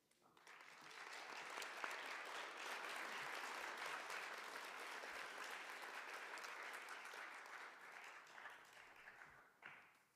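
An audience applauds steadily for about ten seconds, dense clapping that holds at an even level before tapering off at the end.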